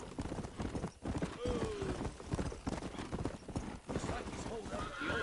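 Horses' hooves clip-clop steadily in the Red Dead Redemption video game, with a horse whinnying briefly amid the rhythmic trotting, heard under background game voices.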